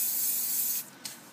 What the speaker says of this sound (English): With our spray of olive oil.